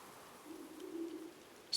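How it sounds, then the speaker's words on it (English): Owls call in a Black Myth Wukong forest scene near rocks, a tree and a small temple entrance: a soft, low, drawn-out hoot sits faintly over quiet ambience, with no talk. "Sound of the owls."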